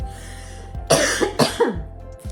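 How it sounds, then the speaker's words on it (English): A few sharp, loud coughs in quick succession, close by, with a low steady hum underneath. "That is so funny that I coughed."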